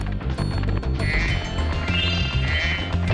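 Frog croaking in the video game Spyro 2: Ripto's Rage, Winter Tundra level, under continuous game music with a couple of brief chirpy effects; the croaks are hard to separate from the busy soundtrack.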